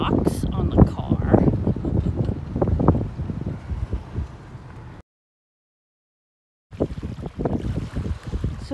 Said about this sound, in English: Very windy and bumpy road.